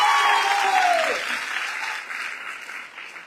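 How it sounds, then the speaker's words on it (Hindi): Loud audience applause fills a hall at a Hindi-language celebration event in Shahjahanpur, a dense steady clatter of many hands that tapers slightly toward the end, with a faint voice tone at the start. "मैं आप लोगों के लिए तालियां बजाता हूं, जोरदार तालियां।"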